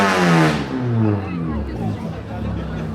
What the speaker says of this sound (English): Let's enjoy the sound. They're going to place it somewhere.